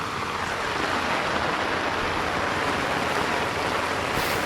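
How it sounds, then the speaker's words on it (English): Rainwater gushes steadily out of a French drain outlet on flat ground beside a house, a constant broad rushing wash heard close and alone with no letup. "All that water is going out here now."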